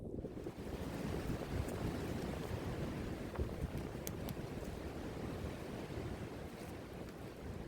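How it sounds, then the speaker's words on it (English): Blustery wind buffets the microphone outdoors on a bright day, a steady roaring rush with gusty low rumble filling the whole stretch, no voices. "it's blustery but bright, and I'm enjoying this gentle amble"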